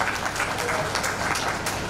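Audience applause at a Bhagwat Katha religious discourse, a steady dense patter of many hands clapping for about two seconds, filling the space evenly with no clear pauses.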